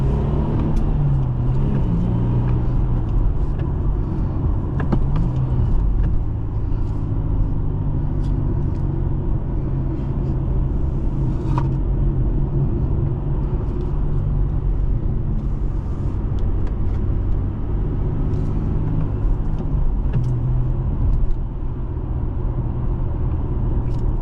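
A 2011 Infiniti G37S six-speed manual engine drones and rumbles steadily while driving, with occasional swells as it revs above 3,500 rpm, heard from inside the cabin with no talking.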